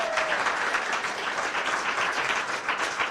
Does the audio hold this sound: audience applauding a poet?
yes